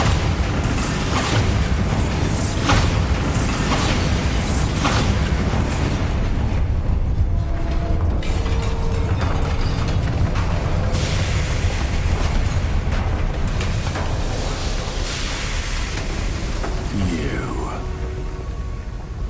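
A Bombarda spell explosion in Hogwarts Legacy rumbles as a loud, sustained boom amid dense game noise and mechanical clatter, with voices speaking throughout.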